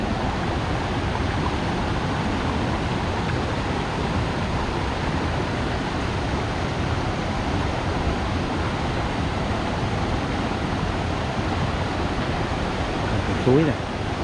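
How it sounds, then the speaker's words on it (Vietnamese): A forest stream flows in the wild as a continuous rushing, gurgling wash of water at close range, with a brief faint sound near the end. "Suối nè."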